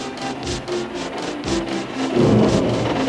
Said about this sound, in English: Wind and rain buffeted at Edward.